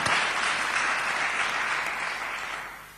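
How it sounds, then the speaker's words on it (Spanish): An audience at a talk in a community centre in Gijón applauds in memory of a late comrade, a warm, dense wash of clapping that swells at once and slowly fades over three seconds. "Un aplauso al compañero que estará siempre con nosotros"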